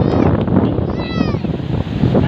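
Ocean waves surge and wash continuously onto Tondaligan beach, a loud broadband roar with wind, while people talk nearby.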